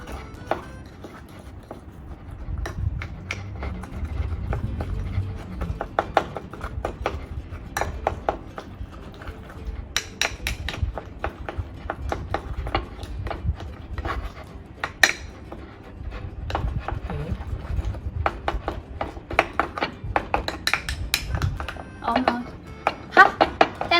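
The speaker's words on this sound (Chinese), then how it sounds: "就是把它们完整的压一压，" Chocolate mug cake ingredients are crushed and pressed in a mug with a utensil, producing a long series of irregular taps, clinks and scrapes, some sharp and close, spread over about twenty seconds.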